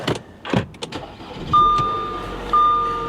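A Chevy Tahoe at a salvage auction lot starts up: a key-turn crank catches into a steady idle, with a warning chime tone repeating over the running engine, close and fairly loud.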